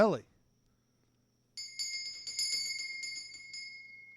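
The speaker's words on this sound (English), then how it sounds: "That was a weak bell for a deli." A small deli bell rings with a bright, sustained metallic tone after a brief voice, the strikes blurring into a lingering ring that slowly fades.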